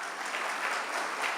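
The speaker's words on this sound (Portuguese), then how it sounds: "Salve de palmas para esses dois irmãos." A church congregation applauds two new converts with a short burst of lively, dense clapping from many hands, steady and fairly close throughout.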